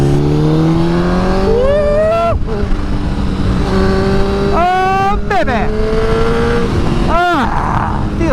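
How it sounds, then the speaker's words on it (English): A motorcycle engine revs hard while riding, climbing through several rising pitch sweeps with gear changes between them. The engine roars loud and close under constant wind noise, and a rider's voice calls out briefly over it. "This bike is so smooth, man."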